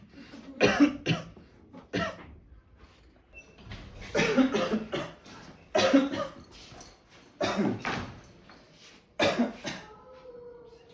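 Several bursts of human coughing in irregular clusters, loud and close, separated by short pauses, with no speech over them.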